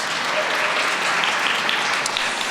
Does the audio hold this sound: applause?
yes